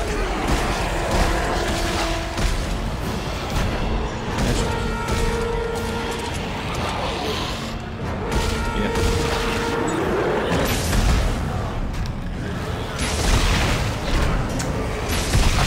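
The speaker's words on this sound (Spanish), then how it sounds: "Bastante daño el cañón lineal, pero le falta cadencia de disparo." Heavy booming shots from the line gun in Dead Space 3, fired repeatedly among dense, loud combat noise and mechanical clatter, with a voice talking over it.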